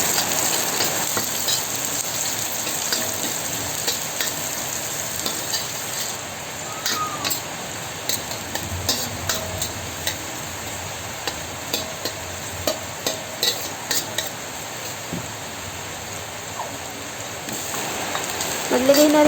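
Garlic and onion sauté in hot oil with a continuous close sizzle and occasional stirring scrapes and taps, frying steadily throughout the stretch.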